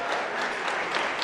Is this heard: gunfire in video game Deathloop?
no